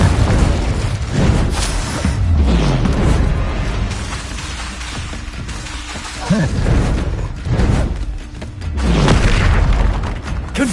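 Repeated booming spell blasts from a Harry Potter–style video game, the Confringo fire curse, several loud bursts with rumbling tails spread across the stretch amid other game effects.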